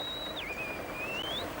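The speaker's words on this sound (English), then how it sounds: "they've got whistles to guide a dog on the run out" A shepherd gives a single faint whistle signal to guide a sheepdog: one sustained, high note that dips and glides back up over about a second, set against a background hum.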